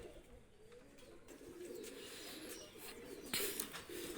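A pair of running pigeons, Pakistani high flyer type, coo softly and repeatedly in a steady low murmur, close by with light background noise and no talking.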